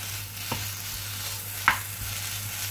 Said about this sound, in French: La poêle à chauffer et je vais faire revenir mon jambon cru.